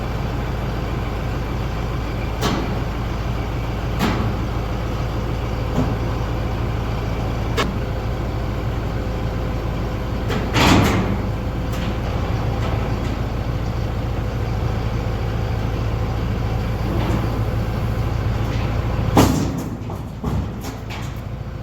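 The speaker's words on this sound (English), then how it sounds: "So let's grab the Kubota, see if we can't just pull that cab back down on that thing." Steady loud tractor engine drone from a Kubota tractor pulling a combine cab down on a farm, running continuously with occasional metallic clanks and knocks rising above the hum near the middle and end.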